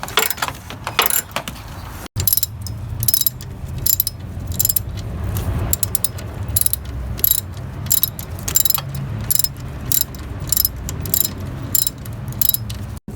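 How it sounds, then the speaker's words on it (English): A hand ratchet cranks two 14mm bolts back into a bracket on a Toyota Camry 3.0L V6 during an oil leak repair, making fast, loud clicking bursts in repeated strokes with short pauses, close up and without talk. "Putting that bracket back in place with the two 14mm bolts."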